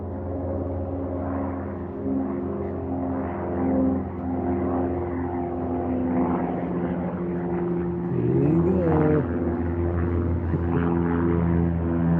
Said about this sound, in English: There goes someone's airplane right now.